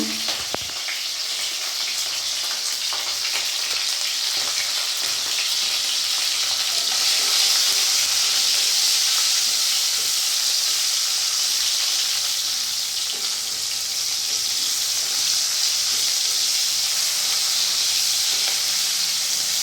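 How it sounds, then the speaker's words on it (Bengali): Cauliflower florets frying in oil in a pan with a little salt and turmeric, a dense continuous sizzle and bubbling hiss, fairly loud and close, with occasional soft stirring sounds and no talking. "ফুলকপিটা আমি লাল লাল ভেজে নেব"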